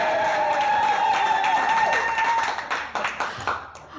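A team cheers and claps together at an architecture awards event, with dense applause and whoops at close range over about four seconds before the clapping thins out into scattered claps at the end.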